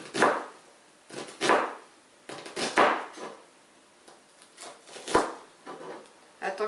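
A knife chops an onion on a board in a home kitchen, the sharp knocks spaced irregularly and close, some single, some in quick pairs, with no talking.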